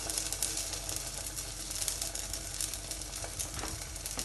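Msemen flatbread frying in a pan over medium heat, a constant close crackling sizzle that holds steady throughout.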